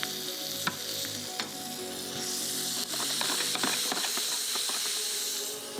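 Garlic, olives and anchovies sizzle steadily in a hot pan, a loud continuous hiss with crackling spits and occasional stirring clatter, no voices.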